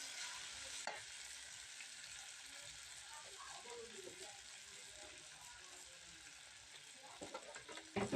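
Cumin seeds sizzle in hot oil with fried tomatoes for a tomato chutney; a steady, fairly quiet frying hiss runs throughout, with occasional clicks and scrapes of stirring.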